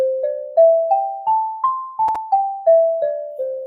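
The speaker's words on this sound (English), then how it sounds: "here's an example of a xylophone with bars taken off" Xylophone with bars removed playing a C pentatonic scale, ten clear wooden-mallet notes stepping up and then back down at an even pace, each ringing briefly, with a couple of soft clicks near the top.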